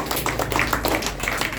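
Audience clapping for quiz competition house teams, a continuous patter of many hands from a moderate-sized crowd, fairly close, lasting the whole moment without talk.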